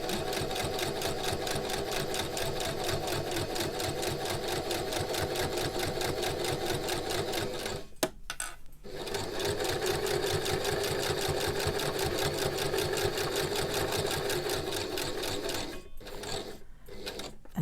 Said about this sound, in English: My sewing machine's rocking.